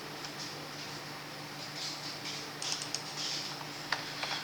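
Keys tapped on a computer keyboard while configuring settings in a program, quiet soft clicks scattered irregularly over a faint steady hum, with a few slightly louder taps near the end.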